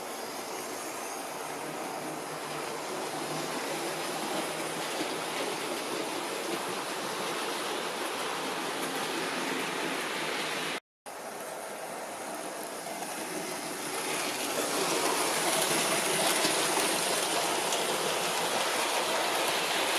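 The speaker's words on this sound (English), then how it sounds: "I've got Tranquil pulling 9 of the Hornby Gresley coaches, the cheaper railroad type ones" A Hornby tender-drive model locomotive, Tranquil, hauls nine Gresley coaches around a layout, a steady whirring rumble of motor and wheels that runs continuously, with a brief dropout near the middle and a slightly louder stretch afterward.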